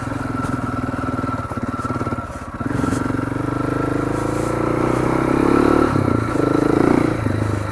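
KTM 690 Enduro motorcycle riding a gravel dirt road in Central Oregon, its steady loud single-cylinder engine drone mixed with tire crunch and clatter, rising slightly as the throttle opens.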